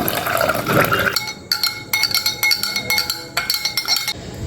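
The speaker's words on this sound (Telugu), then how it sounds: "ఇప్పుడు ఇందులో కొంచెం వాటర్ వేసుకోండి" Water pours into a glass holding lemon juice powder and sabja seeds with a bright, ringing fill, followed by several light clinks of glass and spoon.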